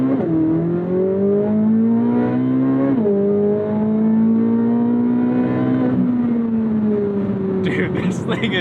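A naturally aspirated flat-plane V8 revs hard to its 8,500 rpm redline from inside the car, climbing in pitch through gear after gear with brief dips at each shift.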